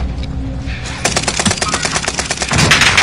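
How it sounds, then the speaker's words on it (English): Rapid automatic gunfire in a video game firefight on a hill, loud and close, bursting in dense repeated volleys after a quieter first second with a steady background hum. "We're taking fire!"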